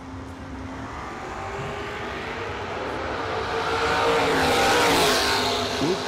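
Drag race cars in the final of the American Race Tech Shootout at the RAD Torque Systems Fall Fling, a loud engine roar building and peaking as the cars pass, fairly near, no talk.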